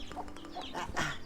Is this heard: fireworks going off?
no